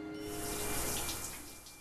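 Shower water runs in a steady, close, even hiss with no voices.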